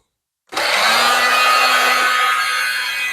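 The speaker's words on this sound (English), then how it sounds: "Got our heat gun going." A heat gun switches on abruptly and runs with a steady, loud blowing whoosh and a faint constant hum while shrinking heat shrink tubing over a solar panel system fuse.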